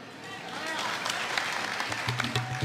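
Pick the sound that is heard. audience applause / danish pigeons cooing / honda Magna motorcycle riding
audience applause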